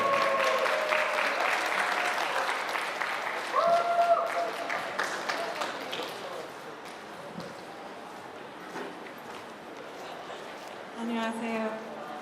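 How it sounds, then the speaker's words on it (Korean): An audience at a university campus busking event applauds as the first busker is welcomed, steady clapping from a crowd that runs under voices and tails off, with a brief tonal sound toward the end. "박수로 맞이해"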